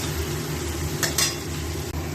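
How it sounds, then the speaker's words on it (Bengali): Chicken curry ingredients fry in a pan: a steady close sizzle with a couple of brief scraping stirs midway, no voices. "এবার দিয়ে এটা একটু ভাজা ভাজা করব।"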